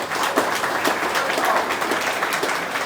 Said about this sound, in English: But give yourselves a round of applause.